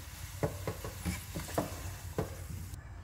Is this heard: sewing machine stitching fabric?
no